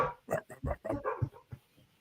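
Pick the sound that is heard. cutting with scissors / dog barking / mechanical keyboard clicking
dog barking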